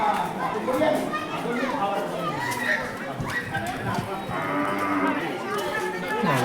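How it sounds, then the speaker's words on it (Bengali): Cattle low and moo repeatedly in a cowshed at the Mayapur ISKCON temple amid a busy crowd, with people talking and children's voices close by throughout. "প্রচুর গরু।"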